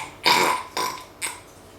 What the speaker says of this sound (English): This is my mom burping right now.